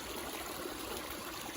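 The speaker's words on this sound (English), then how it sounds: "It's a small creek" A small creek with crawfish and small fish flows steadily, a quiet continuous trickle and babble of water with no other sounds.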